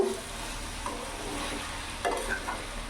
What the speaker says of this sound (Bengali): এইভাবে আমি ভালো করে কষিয়ে নেবো